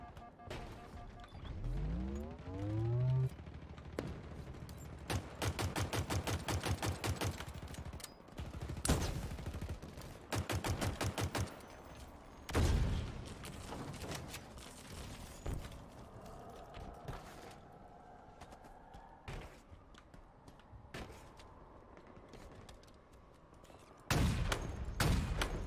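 Halo Infinite Big Team Battle firefight: bursts of rapid automatic fire and single heavy shots come in clusters with gaps between, some loud and close, plus a rising whine and footsteps, under faint talk.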